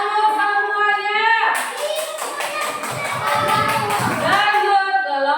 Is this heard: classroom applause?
yes